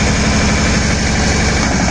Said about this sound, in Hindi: टॉय ट्रेन बीकानेर स्टेशन छोड़ते हुए पीछे।